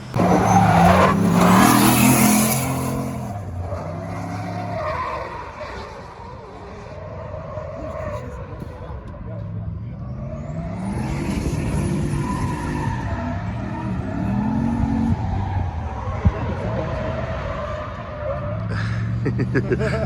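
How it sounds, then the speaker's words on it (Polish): A drift car with an LS turbo engine roars and revs at a drift event, tires squealing and skidding as it swings past, loud and sustained with rising and falling engine pitch. "Prawdopodobnie po dźwięku jakiś LS Turbo."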